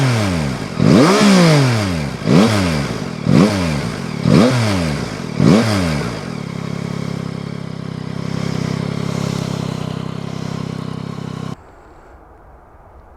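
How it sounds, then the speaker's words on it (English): A 2021 Yamaha MT-09 triple-cylinder 900cc motorcycle engine revs hard five times in a row, each blip rising and falling, then settles into a steady idle before cutting off abruptly. "let's do a little sound test from this triple cylinder 900cc motorcycle."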